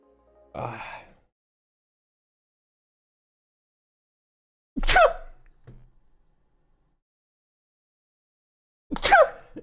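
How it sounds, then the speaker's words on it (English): Three separate sneezes spaced several seconds apart, each sharp and close, with near silence in between. "Those were some sneezes."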